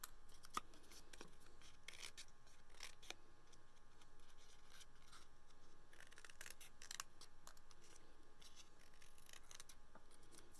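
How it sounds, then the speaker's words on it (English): Scissors snip through paper while trimming small rectangles for handmade note cards, quiet close cuts and rustles repeating unevenly over a faint steady background hiss. "you can cut your papers down to smaller triangle or rectangles"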